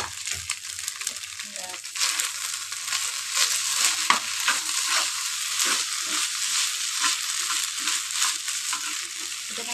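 Chow mein with fried eggs and Maggi masala sizzles and crackles steadily in a pan while being stirred, with a continuous frying hiss and irregular scraping stir sounds throughout.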